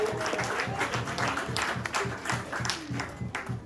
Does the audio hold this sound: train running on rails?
no